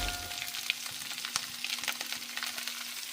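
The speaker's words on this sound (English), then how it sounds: "Knob of butter here. Right there, let that melt down. Okay, cabbage going in." Cabbage fries in melted butter in a pan, sending up a close, steady crackling sizzle with scattered sharper pops throughout.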